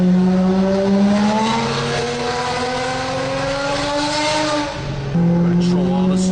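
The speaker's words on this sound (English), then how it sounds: "Rev it." Mercedes W140 with a V12 engine revving hard, the pitch climbing smoothly and holding high, dipping briefly, then snapping back up, loud and close with people talking beneath.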